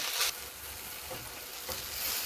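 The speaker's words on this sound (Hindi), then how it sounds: "तकर बाद प्याज के भूज लै छी लाल होय तक।" Onion fries until reddish in a pan with a dense, close, continuous sizzle and crackle, plus a few soft stirring scrapes, and no one speaking.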